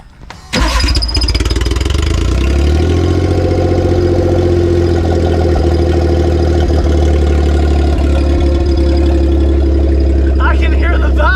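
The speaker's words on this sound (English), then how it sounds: "I can hear the valves." A kei truck engine cranks and catches, then settles into a loud, steady idle with a busy ticking of valve noise running through it, close up and continuous for around ten seconds.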